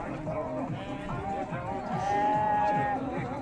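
Cattle lowing at a livestock bazaar in Urzhar, with a long, sustained moo rising through the middle over steady market background noise; no clear speech.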